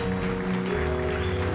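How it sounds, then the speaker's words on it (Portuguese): Church congregation applauding the Lord during a Sunday celebration service, steady dense clapping filling the hall under sustained music, loud and continuous throughout. "Aplauda ao Senhor Jesus."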